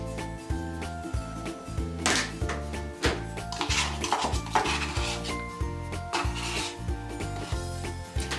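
Spoon stirring self-raising flour into an Oreo McFlurry in a bowl, with repeated scraping, clinking strokes in an uneven rhythm, close and moderately loud.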